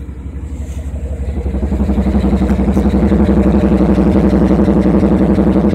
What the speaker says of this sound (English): Show you the exhaust here.